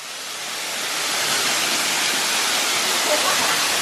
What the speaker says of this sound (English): She's going to go give you a demo of what it's like to get a shower.